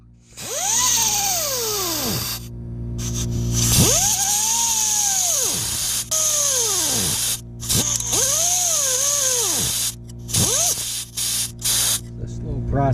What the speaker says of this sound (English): So I guess it's getting out the cutoff wheel. It's gonna take a while.